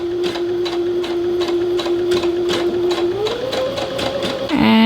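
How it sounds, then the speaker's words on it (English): A sewing machine stitches a blind hem along the raw edge of a pant leg with a rapid, regular run of needle strokes close by. Near the end the motor whine rises and shifts. "So you can see as it stitches, it's just going a few stitches along this raw edge of our fabric that we overcasted"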